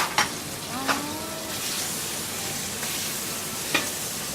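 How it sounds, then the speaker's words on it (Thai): Pork stir-fries in a hot pan with a steady, loud sizzle, while a few sharp scrapes and knocks of the utensil against the pan break through at intervals. "ต้องใส่หมูผัดไปผัดก่อน"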